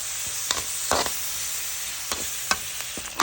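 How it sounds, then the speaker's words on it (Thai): Ground pork dry-fried in a pan as the first step of a Lahu-style stir-fry of puffball mushrooms with pork: a steady hiss with scattered spatula scrapes and clacks, close by, no talking. "เอาหมูบดมาคั่วให้สุกก่อนนะคะ"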